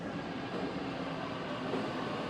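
Steady, loud broadband rumble and hiss from a Sydney Waratah A set electric passenger train running close by, unbroken for the whole stretch with no voices.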